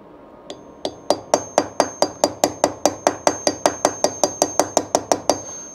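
A hammer taps metal in a steady, rapid series of about twenty sharp, ringing strikes that grow slightly louder, close up and with no talking.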